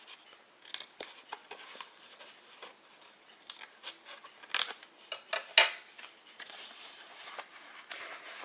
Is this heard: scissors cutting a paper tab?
yes